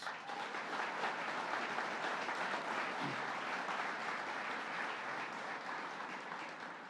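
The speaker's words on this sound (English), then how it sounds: "I believe that deserves a round of applause." A large audience claps steadily at a government announcement in Buffalo about a new workforce training center, the dense, even applause filling the whole stretch at a constant loud level with no speech over it.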